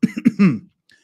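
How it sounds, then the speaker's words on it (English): A single person's cough, close and fairly loud, made of a few quick voiced bursts followed by a longer rasping exhale that fades out, with a faint small sound just after. "Excuse me while I cough."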